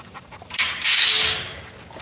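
A dog pants close to the microphone in one brief, breathy burst of rapid huffs that rises and then fades, with nothing else going on.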